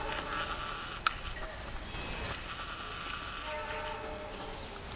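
A CC 206 locomotive pulling the morning Malabar passenger train rushes past a curved level crossing, its horn sounding a signal over the steady roar of the rolling train, heard from a moderate distance.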